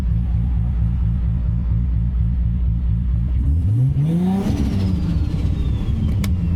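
Turbocharged 1993 Toyota Supra engine pulsing steadily while driving, then revving up sharply with a rising whine as it accelerates, loud and close from inside the car.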